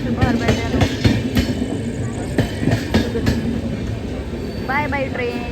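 An Indian passenger train at a station: rumbling carriages and rhythmic clicking wheels close by, with faint squeals and a loud steady rumble, while people talk nearby.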